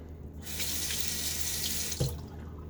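Tap water runs into a sink for a final rinse while shaving, a steady close rush that starts abruptly and carries on with a brief splash near the end, no talking.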